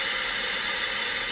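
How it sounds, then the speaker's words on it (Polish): Steady static hiss from a Unitra Eltra Lena 2 radio receiver fitted with a longer wire as an antenna, loud, even and continuous with no tuned station. "Od razu szum jest głośniejszy"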